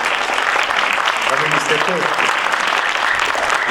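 An audience at a book presentation in Athens claps in a dense, steady, close wash of applause that fills the whole stretch, with a voice faintly audible underneath.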